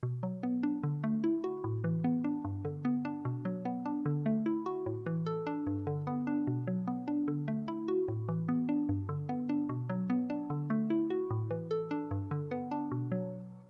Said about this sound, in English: a pretty simple arpeggiated style synth line